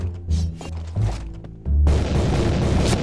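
A gunshot in a shooting video game, Point Blank, pops out amid other game sounds: a few thumping booms up front, then a loud sustained blast of gunfire and noise that carries on to the end, with no talking.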